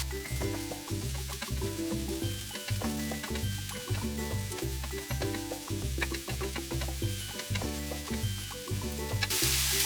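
Courgettes sizzle in a hot pan for an omelette while a utensil stirs them in steady repeated scrapes and knocks, a close, even frying hiss under rhythmic clatter, with no talking.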